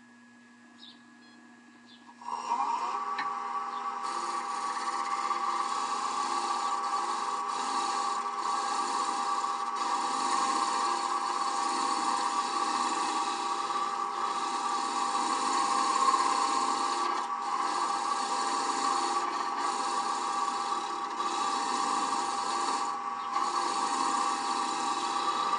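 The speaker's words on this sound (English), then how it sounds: "I've got the gouge up here, and I'm using that part of the edge. It's shearing the wood away." A woodturning gouge shears wood on a spinning lathe, a steady rasping, rubbing drone with a constant hum that starts after a couple of seconds and runs on evenly, close and fairly loud.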